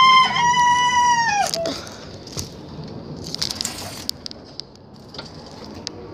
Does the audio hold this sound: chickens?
yes